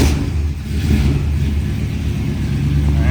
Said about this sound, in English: we're going to fire this thing up and take it on its first test cruise